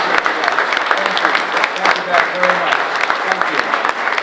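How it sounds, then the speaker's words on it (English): A political rally crowd in Dexter, Missouri applauds first responders, loud sustained clapping with scattered cheers, while someone speaks briefly over it. "Can we give them an extraordinary round of applause for their service?"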